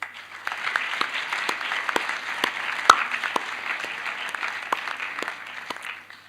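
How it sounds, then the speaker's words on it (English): Children at a youth parliament session give a light, scattered round of applause, individual claps standing out sharply against a quiet room, moderately distant and fairly soft. "give yourselves a round of applause"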